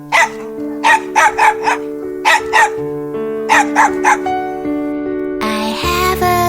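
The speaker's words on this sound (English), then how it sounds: "D is for Dog." A cartoon dog barking in short, loud bursts of two or three over a sustained musical backing, from a children's alphabet song, ending in a brighter musical flourish.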